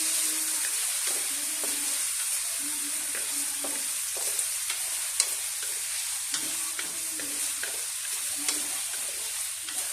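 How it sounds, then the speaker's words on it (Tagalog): Potatoes fry in hot oil with a steady, bright sizzle, broken by repeated scraping and stirring sounds at a close distance, with no talking. "Prito po muna natin yung patatas para pag sinama natin siya ay masarap po mga kaguro dahil naka-prito po siya sa mantika."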